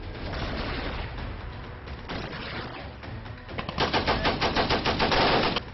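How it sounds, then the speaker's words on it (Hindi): Sustained automatic gunfire during a Taliban attack on Pakistani army positions at the Pakistan-Afghanistan border, with dense rapid bursts that grow louder and more clustered toward the end, and no voices. "गोलीबारी की ये तस्वीरें पाकिस्तान अफगानिस्तान सीमा की हैं।"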